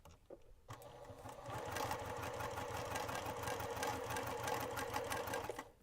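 A sewing machine stitches quilt pieces for a mystery quilt-along, running in a steady, continuous whir after a brief start, close and fairly loud, with no talking over it.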